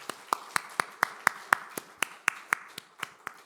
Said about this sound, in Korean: 영광의 박수를 하나님께 돌리겠습니다.